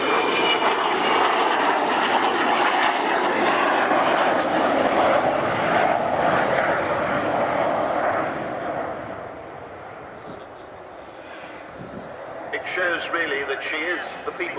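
The Avro Vulcan XH558 jet bomber roars loudly overhead at an airshow, a deep sustained rumble that slowly fades as it passes, with talk faintly under it.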